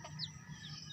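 A farm hen gives a short, soft cluck, faint and brief against a low background hum.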